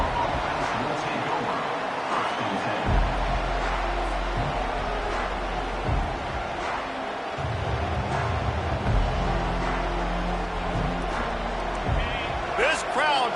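Dense roar of an Oklahoma football stadium crowd fills the background steadily throughout, with a play-by-play commentator talking over it.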